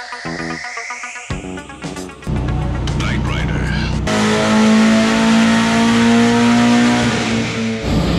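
A Jordanian-made car's engine runs on its first test, rising from a quiet idle with sharp revs into a loud, steady roar that holds to the end.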